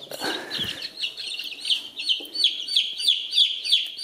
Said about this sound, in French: Un petit poussin Bielefelder